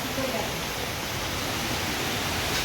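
Heavy monsoon rain pours outside a Konkan village home, a steady, dense roar of falling water that stays constant and loud throughout.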